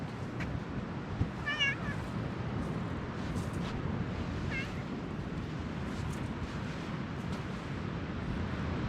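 A cat meows twice, short and fairly faint, amid steady wind noise outdoors in a quiet off-season resort village on Halkidiki in winter.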